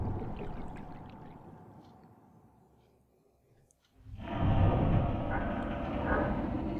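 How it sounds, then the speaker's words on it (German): Water rushes into a room in the underwater sci-fi game SOMA, a low rumbling ambience fading almost to silence before a loud, broad pouring surge floods in at about four seconds and keeps roaring steadily. "und füllt sich mit Wasser"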